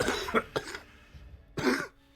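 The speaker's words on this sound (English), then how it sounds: "I took a cough drop, so I hopefully wouldn't cough like that. Apparently, I still am." Several sharp coughs from a person streaming a Gems of War game, two quick bursts close together at the start, then a pause, then a third louder cough, close to the microphone.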